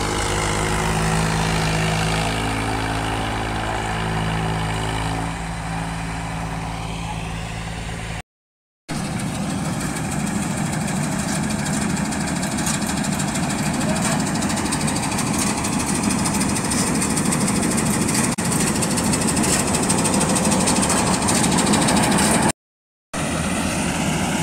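A combine harvester engine runs in a wet rice field near an Indo Farm 855, a loud, steady droning roar with a rattling mechanical texture that continues through two brief cut-outs.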